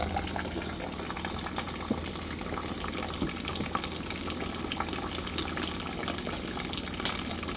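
Hot maple syrup trickles steadily from the valve of a boiling sap evaporator, a continuous liquid gurgle layered over the bubbling, sizzling boil of the pans, with no one speaking.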